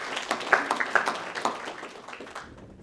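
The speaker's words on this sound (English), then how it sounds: "could we give them a round of applause?" A conference audience applauds after a call for thanks, a short burst of dense clapping that fades out within a few seconds, with no talk over it.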